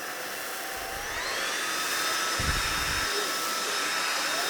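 A Lubluelu 25Kpa cordless stick vacuum cleaner runs on medium power with a steady, loud whining hum and airflow rush. Its pitch shifts slightly as it is moved, and low thumps come from handling.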